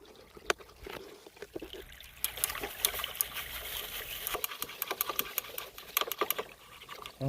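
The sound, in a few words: gold pan being shaken in creek water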